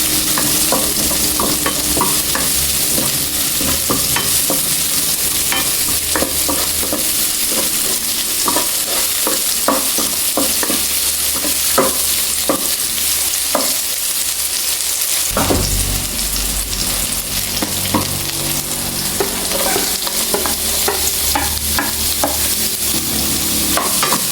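Ginger fries in a pan for spicy coconut-milk fish stew: a loud, continuous sizzle runs throughout, broken by frequent scraping and clacking stirs, with no voices.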